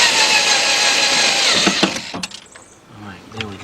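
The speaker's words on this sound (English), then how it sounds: "Let me drill that a little bit more." A power drill whirs steadily for about two seconds during a rear window regulator and motor replacement on a Mercedes-Benz E320. It stops, followed by clunks and brief talk.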